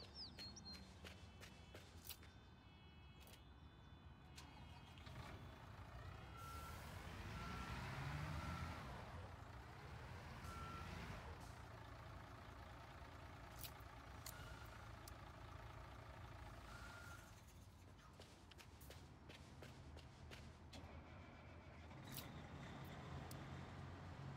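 A truck's reversing alarm beeps repeatedly at a construction site in a road-building simulator game, heard over a rumbling, idling engine and machinery noise that continue throughout.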